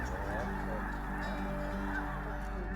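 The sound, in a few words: snow geese honking in flight at Freezout Lake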